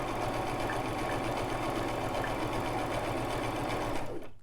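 A Brother LX3817 sewing machine sews a woven blind hem stitch, running in one loud, continuous, close mechanical hum that cuts off abruptly at the end.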